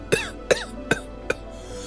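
A man coughs hard in four harsh, evenly spaced bursts, each loud and close with a short gap between, and no talking around them.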